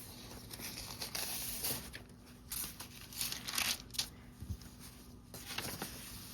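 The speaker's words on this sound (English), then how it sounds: "I've got papers falling all over the place here" Junk journal pages, including onion skin typing paper, are shuffled and handled, making repeated soft crinkling, rustling and tearing-like bursts with light papery pats, close and fairly quiet, with no talking.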